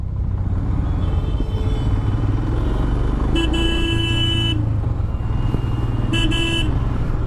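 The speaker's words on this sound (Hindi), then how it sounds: "यहाँ पे भयंकर ट्रैफिक है।" Heavy road traffic on a busy city road, with a continuous rumble of cars and motorcycles close by and two clear bursts of car horn honking cutting through the din.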